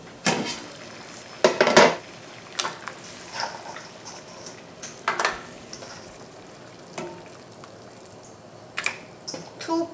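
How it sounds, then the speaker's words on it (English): Pork ribs go into a pot of boiling water for blanching, with scattered clanks and knocks of metal and utensils at irregular intervals over a low, steady kitchen background. "I'm boiling my water, so I'm going to blanch this here."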